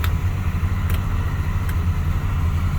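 A boat engine that was just fired up, with the battery switch, pump and blower on, idling out of gear as a steady low rumbling drone with a few faint clicks over it.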